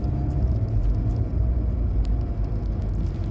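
Cars pass at a busy street corner in a continuous low traffic rumble, loud and steady, with a distant airy hiss from the road and no talking.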